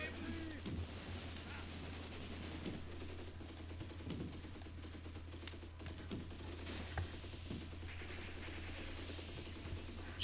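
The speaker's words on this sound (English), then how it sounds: "And I hear some mortar attacks from the Soviets on our men." Soviet mortar fire and small-arms shooting in the wartime strategy game Graviteam Tactics, a faint, steady barrage of distant crackling shots and muffled thumps running throughout beneath a low rumble.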